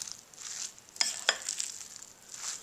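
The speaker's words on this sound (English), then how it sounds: "I'm going to switch from a whisk to a spoon so it will mix easier." A spoon stirs grated butternut squash into fritter batter in a bowl, soft wet swishing with a couple of sharp clinks against the bowl, faint and close.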